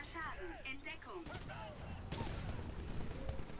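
Gunfire rattles in the video game Titanfall, with quiet bursts of rapid shots and impacts under someone speaking over the action.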